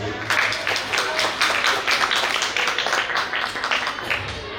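An audience applauds a group at a stage show, a dense, continuous burst of clapping from a crowd lasting a few seconds.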